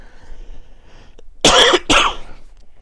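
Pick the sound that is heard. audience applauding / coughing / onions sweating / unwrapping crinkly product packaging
coughing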